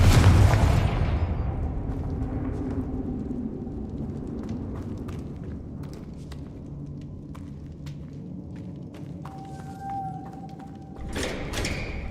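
Confringo blasting curse in Hogwarts Legacy exploding with a heavy boom at the start, its rumble slowly fading over several seconds, followed by light taps and a short tone near the end.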